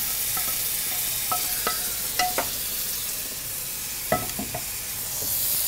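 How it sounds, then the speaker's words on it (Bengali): Rice for pulao fries in a pan with gravy, constant sizzling with intermittent scraping and light clinks of a utensil stirring, steady and close throughout. "এরপর আমি আরেকটু ভাজবো চালটাকে"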